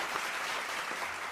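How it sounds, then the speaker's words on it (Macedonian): An audience applauding a guest on a TV show, a brief dense wash of clapping heard fairly faintly and without a break, with no talking over it. "Затоа ве молам со еден огромен аплауз да ја поздравиме Тамара Мисирлич"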